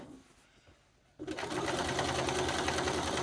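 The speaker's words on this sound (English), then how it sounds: "And then we're going to sew." A sewing machine stitches the elastic waist of a pair of trousers, starting after a quiet moment and then running as a steady, close, continuous whir.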